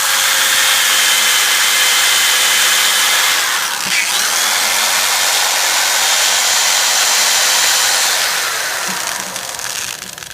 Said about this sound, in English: Got to get your drill. You got to re-drill this out.